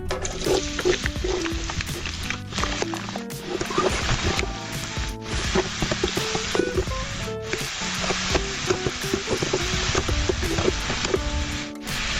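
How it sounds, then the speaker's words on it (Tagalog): Chopped garlic sizzles and toasts in hot oil, a loud, continuous frying crackle close to the pan, broken now and then by stirring scrapes and clinks of a utensil. "Let's toast this garlic."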